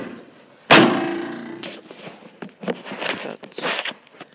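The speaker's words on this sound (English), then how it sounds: "The door is jammed." A jammed door on a 1953 Chevrolet is forced open: one sudden heavy thunk, then rattling, scraping metal clatter and a few softer knocks close by.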